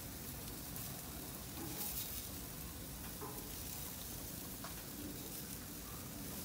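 Sausage cooking on a Hestan gas grill gives off a soft, steady sizzle and crackle, faint and continuous with no voices.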